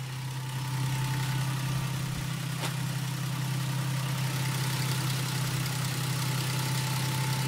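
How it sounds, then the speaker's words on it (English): Lexus IS200 engine running on a Speeduino ECU, idling smoothly with a steady low hum that stays even and unbroken throughout. "it's idling really really really smooth really good"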